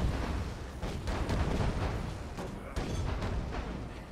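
Rumbling explosions in Dead Rising 3 boom repeatedly in a dense, continuous barrage with a few sharper blasts standing out.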